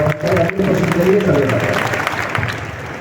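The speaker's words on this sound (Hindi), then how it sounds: "एक बार जोरदार ताली बजाएं" An audience at a school general-knowledge quiz at an intercollege claps in a burst of applause, heard beneath and after someone speaking loudly over it.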